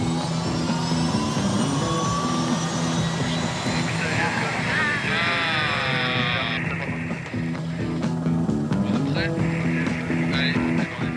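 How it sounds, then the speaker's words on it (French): Helicopter taking off from a hotel in the Camargue for a sightseeing tour, a loud continuous rotor and engine roar with rising pitch, a voice talking over it. "on permet aux clients de décoller directement de l'hôtel pour un tour en hélicoptère au-dessus de la Camargue"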